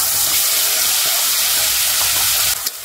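A ground onion, ginger and garlic paste fries in hot oil for a black chana gravy, making a loud, dense hiss that holds steady, then dips briefly near the end.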